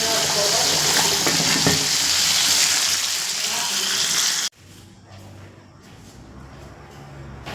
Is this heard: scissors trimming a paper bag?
no